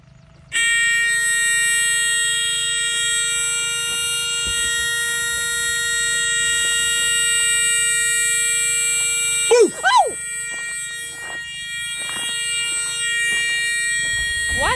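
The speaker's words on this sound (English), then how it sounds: "It's a warning buzzer letting you know it's fixing to run." An APU warning buzzer on a big rig, sounding before the APU engine starts, gives a loud, steady multi-tone electronic drone that holds for about fourteen seconds, with a brief warbling burst partway through.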